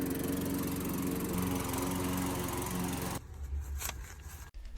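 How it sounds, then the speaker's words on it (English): A lawn mower engine drones steadily while mowing a small residential yard, loud and close, then drops noticeably in level partway through as it keeps running; no speech. "we're gonna go ahead and leave right now and mow the yard"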